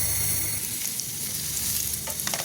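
Ginger and spice paste frying in a hot pan for a spiced beef brain dish, giving a loud, steady close-up sizzle with scraping stirs near the end, and no talking.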